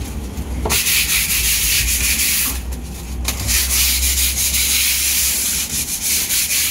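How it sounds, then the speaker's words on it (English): Close, continuous hand sanding of plywood: a harsh rhythmic scratching rub back and forth, with a brief pause midway, no speech. "After I finish sanding,"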